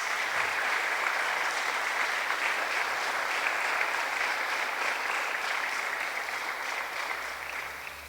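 Church congregation giving loud, sustained applause during a worship service, a thick continuous roar of many hands clapping that tapers off slightly at the end.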